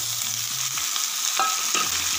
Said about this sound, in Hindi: तो फ्रेंड्स, हमारा प्याज अच्छे से हो गया है, और तो अब हम इसमें डाल देते हैं सब्जी को।